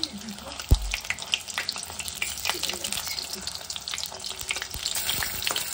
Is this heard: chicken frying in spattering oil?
yes